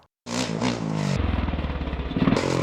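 Motocross motorcycle engine roaring loud and close as the bike flies through a jump, the pitch holding then dropping into a rapid pulsing throttle flutter before rising again.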